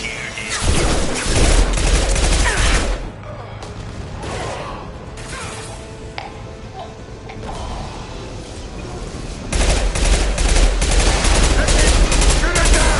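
Loud, dense bursts of automatic gunfire from a PS4 shooter game, with heavy firing at the start and end and mechanical creaks and clanks between.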